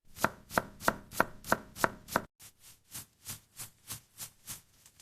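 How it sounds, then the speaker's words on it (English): A knife dices an onion on a board in a steady series of crisp, close chops, about seven sharp strokes followed by a softer, duller run of evenly spaced cuts, with no talk. "I am dicing onion."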